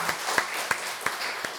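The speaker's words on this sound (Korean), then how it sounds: "우리 청년 젊은 백성들 박수하겠습니다." Applause for young members of a church congregation during a special prayer service: a moderate patter of clapping with a few sharper, evenly spaced claps standing out, medium distance, without speech.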